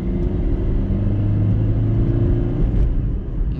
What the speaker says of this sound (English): Engine is definitely a bit loud. We can hear it.